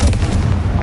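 A Confringo spell explosion in the video game Hogwarts Legacy: a single loud, dense, booming blast under a second long, close and heavy in the low end.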